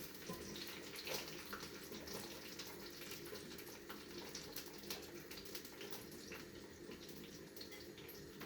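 Onions hit hot oil in a clay pot, giving a steady, broadband sizzle that stays fairly even throughout, quiet and close with no voices over it.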